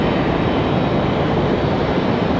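An Endeavour CRJ regional jet arrives at Raleigh-Durham airport, a loud, steady broadband engine roar that fills the moment without talk.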